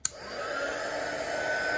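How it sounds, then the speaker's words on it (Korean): A small handheld hot air gun, used like a hair dryer, switches on with a click and blows a steady, breathy whoosh that holds constant and slightly swells, alone without talk. "헤어드라이기처럼 처음에는 바로는 그렇게 뜨거운 바람이 안 나오는데, 조금 지나면 엄청 뜨거워집니다."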